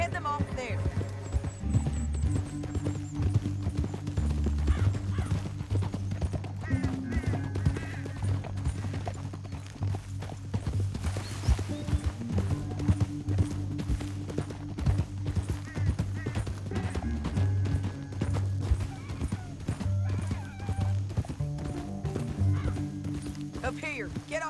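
Horses in Red Dead Redemption 2 clip-clop steadily through a canyon chase, hoofbeats running beneath a musical score and bursts of character dialogue.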